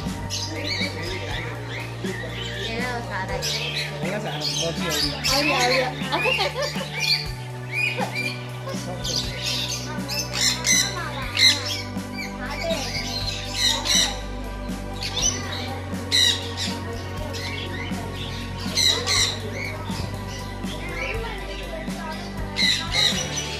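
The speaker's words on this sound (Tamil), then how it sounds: "இந்த கிளி என் காதுகிட்ட என்ன சொல்லுது தெரியுமா?" Parrot squawks repeatedly in an aviary at the Yelagiri hills bird sanctuary, harsh calls recurring through the clip over a busy background of other birds and steady low-frequency hum, with a voice talking intermittently.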